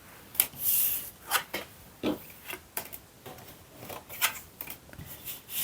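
Tarot cards are shuffled and drawn by hand in a run of close, dry flicks and soft slaps, irregular and clustered, with brief pauses between, no talking.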